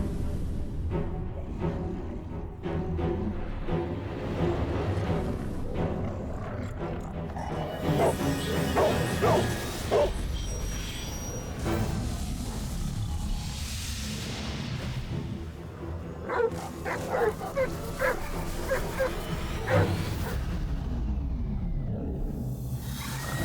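Dogs bark and whimper in the Grim Tales 6: The Vengeance hidden-object game, repeated yips and barks scattered over a rumbling ambient soundtrack with occasional voice.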